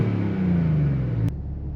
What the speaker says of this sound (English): just hearing the supercharger